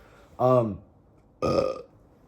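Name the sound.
burp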